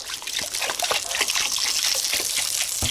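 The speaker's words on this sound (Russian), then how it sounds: "Заливаем водой." Water pours steadily into a cooking pot over fish heads, a continuous close splashing gush with no voices.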